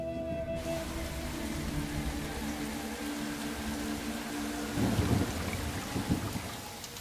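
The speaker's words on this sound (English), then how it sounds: "tropical monsoons that sweep along the far north coast, bringing torrential rain" Heavy tropical monsoon rain pours steadily with a deep rumble of thunder underneath, and a louder burst of noise joins near the end.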